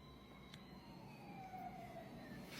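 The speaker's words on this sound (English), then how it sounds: "We'll make sure that siren wasn't close to my house here." An emergency siren wails in the distance, its faint rising and falling tone drifting over a low background hum, with no voices.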